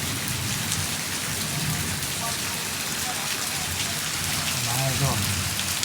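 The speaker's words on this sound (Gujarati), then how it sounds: "જો વરસાદ કેવો આવે, તૂટી પડે તો આયા જ કરશે." Heavy rain pours steadily in a dense, continuous roar close by, unbroken from start to finish, with a faint low rumble of thunder and indistinct voices briefly underneath.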